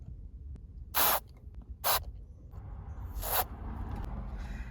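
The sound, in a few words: electronics cleaner spray with straw sprayed between car dash buttons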